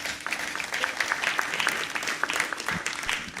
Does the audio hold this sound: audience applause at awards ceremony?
yes